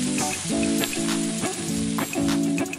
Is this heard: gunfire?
no